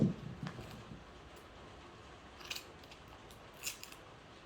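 Scissors snip through tape, a few quiet crisp cuts at irregular intervals against a near-silent background.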